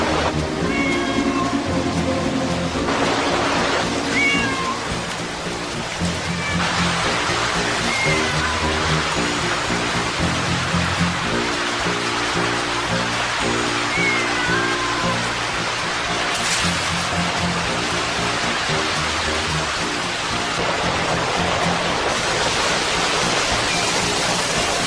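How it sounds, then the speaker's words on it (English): A frightened cat cries as it is carried down waterfalls, its meows rising over the loud, constant rush of tumbling water, along with dramatic film music throughout. "they made this cat go down multiple waterfalls as we hear its cries of fear"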